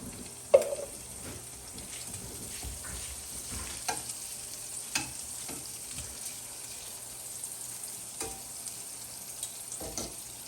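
Radishes with their greens cook in a pan, giving a steady close sizzle and frying crackle, with occasional clinks and light knocks of utensils.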